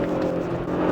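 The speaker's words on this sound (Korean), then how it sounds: "바람 소리가 커지는데 엔진 소리가 바람 소리에 지지 않습니다" An Audi SQ5 TFSI SUV accelerating under load, with a strong, steady engine drone that holds its pitch over a brief moment, heard from inside the cabin amid rising wind noise.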